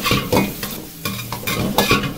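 Daikon radish stir-fried in oil over medium heat for pan-fried daikon mochi, with a close sizzle and four or five brisk, rhythmic spatula scrapes and stirs against the pan.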